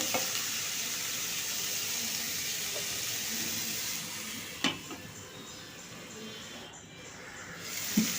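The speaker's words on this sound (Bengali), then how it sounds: "দিয়ে আলুটা ভালো করে কষিয়ে নেব" Potatoes frying in a pan for a red amaranth leaf curry, being stirred, a steady soft sizzle with a few spoon knocks and brief clatters, moderately close and no voices.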